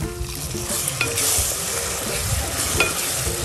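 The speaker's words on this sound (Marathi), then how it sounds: "आता त्यामध्ये दूध घालूया आपण गरम केलेलं" Hot milk poured into semolina roasted golden in ghee with dry fruits and banana, sizzling and bubbling loudly in the pan with scraping stir sounds throughout.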